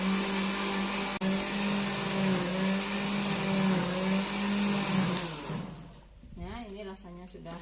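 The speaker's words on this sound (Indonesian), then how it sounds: "Kemudian kita tutup, kita nyalakan blendernya." A kitchen blender whirs steadily as it blends moringa leaves with water for candil, a loud continuous motor drone that lasts about five seconds before winding down and fading into softer background sounds.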